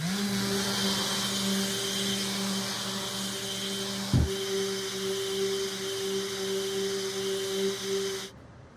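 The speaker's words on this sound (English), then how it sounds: "My next step here is to cut the box in half" A power tool hums steadily with a strong tonal whine while cutting a wooden playing-card box in half, the motor running continuously with one brief thump partway through before it cuts off at the end.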